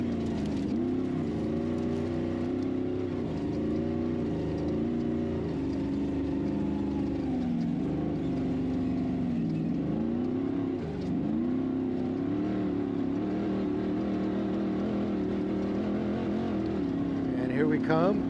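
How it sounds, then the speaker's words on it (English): Ultra4 race car engine droning and shifting pitch as it passes during the Laughlin Desert Classic desert race, a steady loud roar with rising and falling tones across the whole stretch, with voices around it. "I can hear her car. That's her passing right there."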